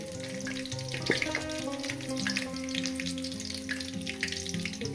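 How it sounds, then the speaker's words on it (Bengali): Potatoes frying in a pan while a spicy rohu fish and taro-stem curry is being made, a steady close sizzle with a sustained tonal hum running beneath it throughout, no voices. "আলুটাকে আমি দু মিনিট ভেজে নেব"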